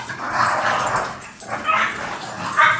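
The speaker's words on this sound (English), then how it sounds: "there's like always a complaint about like the dogs in the background" Dogs bark and yip in the background at a home, a few loose, muffled bursts, fairly loud and close, with no talking over them.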